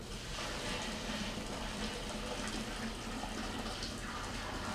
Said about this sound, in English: Add 3 gallons of sparge water to my mash.